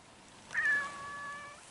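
A single cat meow rises sharply, then trails off into a long, fairly close tonal cry over a quiet outdoor background with no talking.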